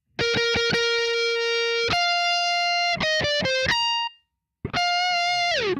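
A bright, distorted electric guitar picks a quick phrase of the Star Wars main theme, plucked notes with sustained held tones, a brief gap, then a final note that bends downward.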